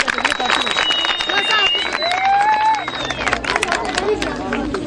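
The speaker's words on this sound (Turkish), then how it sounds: "Şöyle kuvvetli bir alkış yapalım." Lively clapping and crowd noise at a youth sports tryout event in Karabük, with rapid claps, whistles and cheering mixed with voices throughout.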